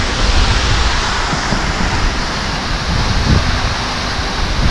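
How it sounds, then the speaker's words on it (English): A big waterfall in Grand Staircase-Escalante roars in a loud, unbroken rush, close by and steady throughout, with no voices. "It's a big waterfall."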